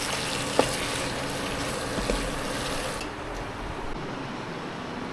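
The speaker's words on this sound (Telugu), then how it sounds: "స్టవ్ తక్కువ పెట్టుకొని ఒకసారి కలుపుకుందాం చికెన్ మొత్తం" Chicken sizzles steadily in a pan on a low stove in a small room, a continuous close frying hiss with faint scrapes and clicks of stirring.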